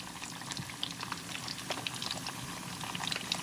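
Shrimp frying in oil in a pan, a dense, steady crackle and sizzle of small pops that holds at an even level throughout, close by, with no talk.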